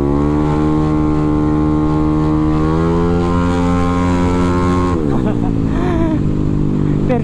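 A Yamaha Aerox scooter's engine drones loudly and close while racing along a road, its pitch holding steady and then dropping and wavering as it eases off, with riders talking over it.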